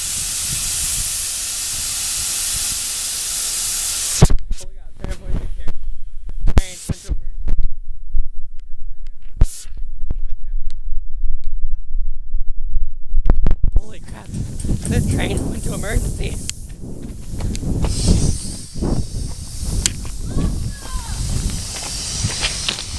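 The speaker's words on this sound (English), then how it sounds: "The air hose is broke." A loud, steady hiss of air blasts from a broken train air hose as the train goes into emergency near Asheville, then drops away to near silence with scattered thumps, before rushing noise and excited voices return.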